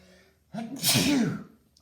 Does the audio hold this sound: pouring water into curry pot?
no